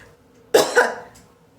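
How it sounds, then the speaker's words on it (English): A short burst of coughing, two quick harsh coughs close up, followed by quiet. "Sorry about the coughing."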